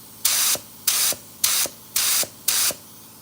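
Five short, even bursts of hissing spray from a paint spray gun, evenly spaced with a small click at the end of each, close and loud.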